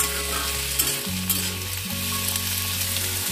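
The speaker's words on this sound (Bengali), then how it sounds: "সেখানে একটা কড়াইয়ের মধ্যে পেঁয়াজটাকে ভেজে নেওয়া হচ্ছে" Chopped onions fry in hot oil inside a kadai, giving a steady, close sizzle with soft stirring scrapes running throughout, alone with no voices.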